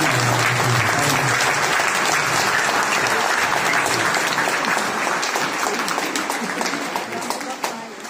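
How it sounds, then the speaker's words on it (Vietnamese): A church congregation at a Vietnamese Father's Day Mass applauds to congratulate the priests and fathers: dense, sustained clapping filling the room, steady and loud, slowly thinning toward the end. "Chúng con xin cộng đoàn cùng vỗ tay chúc mừng quý cha và"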